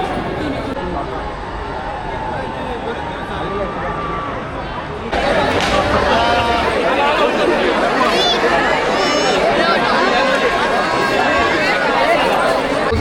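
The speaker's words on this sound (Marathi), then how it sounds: "मंदिरात जेवढी गर्दी नाही ना, तेवढी गर्दी बाहेर आहे, त्यापेक्षा जास्त गर्दी." A dense crowd mills around outside the temple at the Mahad Chabina fair, with a continuous babble of many voices that jumps louder partway through, mixed with nearby chatter and footsteps.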